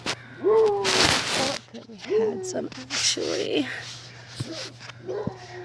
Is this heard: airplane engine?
no